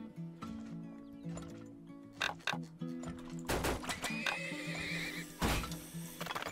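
Horses in the Turmoil oil-drilling video game neigh and whinny in several short bursts over a low, droning game soundtrack, with a few clicks and rustles between calls.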